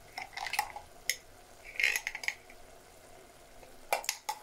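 A pot lid is set back over seafood spicy pasta simmering in a clay pot, giving a few light, scattered clinks and clatters, soft and close, with quiet gaps between.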